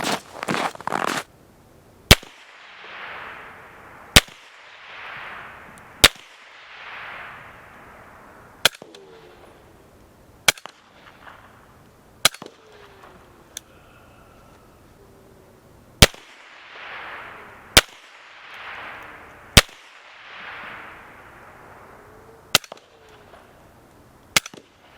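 Suppressed gunshots from a Q Porq Chop and a YHM Bad Larry ring out as about a dozen sharp, evenly spaced cracks over quiet outdoor background, each followed by a brief echo, with supersonic and subsonic rounds fired.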